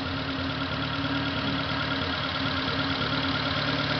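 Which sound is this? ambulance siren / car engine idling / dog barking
car engine idling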